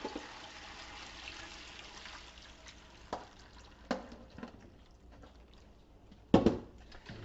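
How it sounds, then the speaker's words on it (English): Water poured through a double colander lined with thrip cloth, a low steady trickle and splash with a few sharper splashes and a louder gush near the end, nearby and with no talk. "We're going to pour that water through our double colander."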